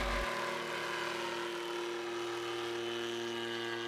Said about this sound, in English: The Schiebel S-100 camcopter is an Austrian-made rotary wing, designed for intelligence, surveillance, and reconnaissance